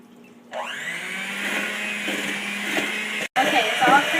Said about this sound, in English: you're going to pour your sugar into your butter, and then you're going to cream it together until it's nice and smooth